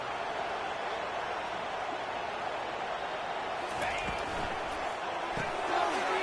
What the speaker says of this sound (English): And this crowd is deafening, trying to will the stop.